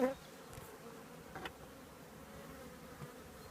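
Queenless honey bees at a hive hum in a steady, close buzz that runs unbroken throughout, with a couple of brief soft knocks and no talking.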